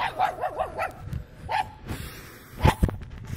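A dog barks in a rural village yard, a run of several quick, fairly close barks followed by a couple of louder, sharper barks near the end, with no talk over them.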